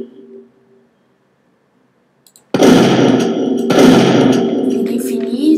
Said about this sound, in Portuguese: E a shotgun vira uma metralhadora, velho